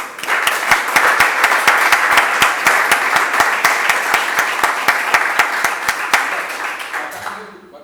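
An audience claps after a talk on architecture in the Trujillo era, steady dense applause that stays loud for about seven seconds before tapering off.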